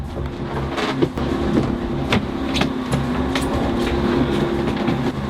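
Loud rumbling motor with rhythmic knocking and clanks, heard up close and steady at night, consistent with an approaching boat engine; no talking over it.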